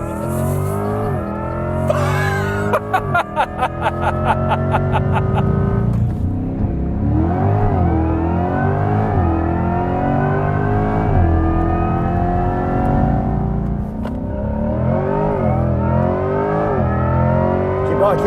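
A 2024 Chevrolet Corvette E-Ray hybrid AWD launches with launch control, its engine roaring and rising through several loud gear pulls while people exclaim inside.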